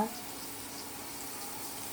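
Teasel gourd and pumpkin slices frying in a pan give a steady, soft sizzle throughout, close and fairly quiet, with faint voices in the background.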